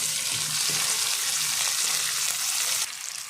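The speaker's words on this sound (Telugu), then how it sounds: "టమాటాలు వేసుకున్న తర్వాత ఒకసారి బాగా కలుపుకోవాలి." Tomatoes, onions and green chillies fry and are stirred in a pan for a mutton and colocasia curry, giving a dense, steady close sizzle that softens slightly near the end.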